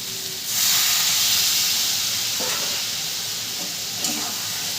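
Water poured into a frying spice masala for a vegetarian potol curry, giving a loud, steady steam hiss and sizzle that rises sharply and holds for several seconds, with faint stirring clinks.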